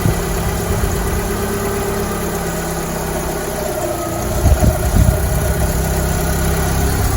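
A Fiat 500 engine running, a steady close idle with a constant low rumble and mechanical hum, with a few brief knocks partway through.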